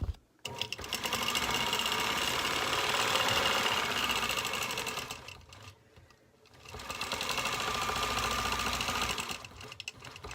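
A domestic sewing machine free-motion quilting a border with a ruler, running in two long steady bursts of close, loud mechanical whirring with a brief stop between them.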